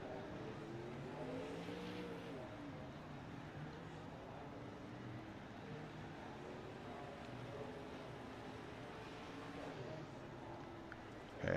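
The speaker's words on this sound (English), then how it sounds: "And coming back to the green off for turn number 4, and we go racing." SCRA Pro Late Model race cars at Eldora Speedway roar in a steady, continuous drone, their engine pitches rising and falling as the pack circles the dirt track at moderate distance.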